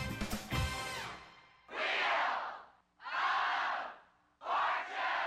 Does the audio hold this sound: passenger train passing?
no